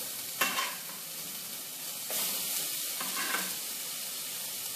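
Tomato goes into spinach frying in a pan, with a sharp sizzle on contact and a few bursts of stirring and scraping over a steady hiss, close up and with no voices.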